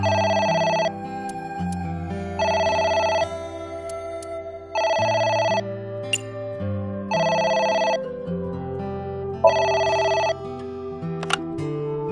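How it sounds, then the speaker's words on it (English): An in-game telephone rings in a PS4 game set in a diner, five evenly spaced electronic bursts over a low musical background, with no talk. "It's the phone."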